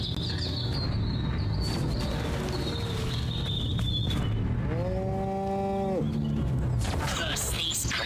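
Cattle moo in the video game Destroy All Humans!, a long loud bellow with a rising then falling pitch near the middle, over constant game ambience with some faint bird-like sounds.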